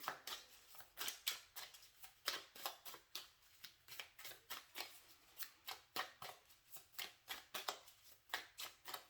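Tarot cards are shuffled in quick, even riffles, a run of short crisp bursts close to the microphone, with no talk.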